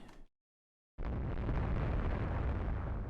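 Naval shellfire striking an enemy warship in the naval strategy game Rule the Waves 3, a sudden cut to silence then a dense, rumbling explosive roar that holds steady, with no voices.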